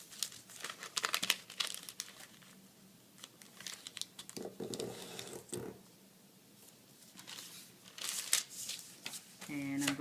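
Sheet of paper folded and creased by hand for a geometry construction, crisp crinkling and rustling in short bursts, close and fairly quiet, with a voice speaking over part of it.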